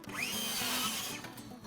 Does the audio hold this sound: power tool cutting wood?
yes